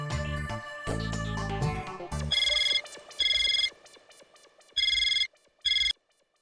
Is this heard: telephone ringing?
yes